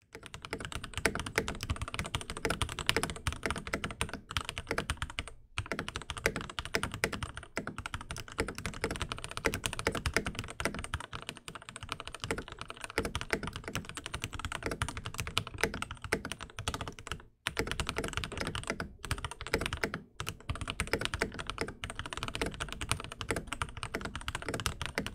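Keydous NJ80 wireless 80% mechanical keyboard with a brass plate and Gateron Pro Yellow switches being typed on steadily, a dense, continuous patter of close, crisp keystrokes with a couple of brief pauses and no voices.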